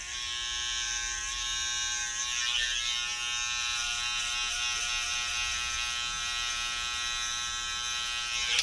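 Electric hair clippers cutting a taper fade, a steady high buzzing hum that runs close and continuous with slight shifts in pitch as the blade moves, no voices.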